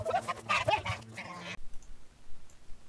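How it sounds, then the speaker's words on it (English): Several honking goose calls from the browser game Mope.io in quick succession, loud and close, then cutting off into near silence for the second half. "Nah, I'm about ready to die to a goose."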